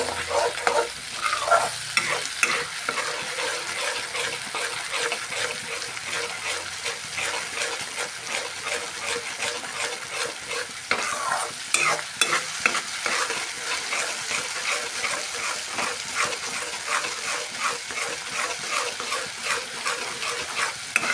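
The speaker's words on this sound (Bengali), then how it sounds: "গ্যাসের আসতে বাড়িয়ে মশলাটাকে ভালোভাবে কষিয়ে দিচ্ছি" Spice paste with salt stir-fried over rising heat in a pan for a Bengali eggplant masala, a loud steady sizzle broken by repeated rhythmic scraping strokes of the spatula throughout, no speech.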